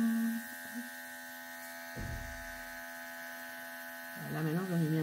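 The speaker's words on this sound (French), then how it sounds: "Désolée pour le bruit de l'aérographe." A small airbrush spraying alcohol inks hisses and hums steadily in short bursts, with a brief pause and some clattering, then a voice starts speaking near the end.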